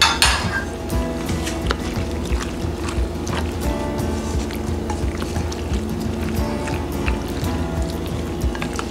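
Macaroni salad with tuna being mixed in a bowl, with wet stirring and scraping plus small clinks of utensil against the dish, continuous and close.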